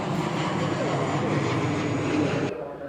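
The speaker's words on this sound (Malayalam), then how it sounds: "നമ്മുടെ തൊട്ടുവേളിക്കൂടെ ഫ്ലൈറ്റ് പോകുന്നു." A jet airplane rumbles overhead above Haridwar city, Uttarakhand, with a broad, steady roar that cuts off abruptly near the end.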